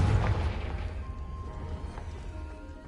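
A Confringo explosion spell goes off in Hogwarts Legacy, a loud close crash-like blast at the start whose ringing tail fades away over the following seconds.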